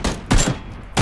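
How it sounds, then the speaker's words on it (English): Gunshots in PUBG, several loud, sharp cracks about a third of a second apart, heard up close in a quick sequence. "Cover fire for me."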